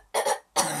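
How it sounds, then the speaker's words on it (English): Two separate dry coughs from one person, close and fairly loud, each a short harsh burst with a brief pause between them. "I've got a bit of a cough"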